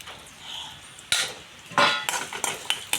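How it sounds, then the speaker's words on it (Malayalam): Chopped coconut roasts in a pan, heard as a faint background hiss broken by sharp metallic scrapes and clinks of a spoon stirring, several quick strokes close by. "നമുക്ക് അല്പം തേങ്ങ കൊത്തി എരിഞ്ഞ് വറുത്തെടുക്കാം"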